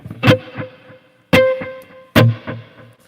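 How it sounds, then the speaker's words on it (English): Three distorted electric guitar stabs ring out in turn, each followed by fading echoed repeats that trail off quickly. "Here's reverb and the delay."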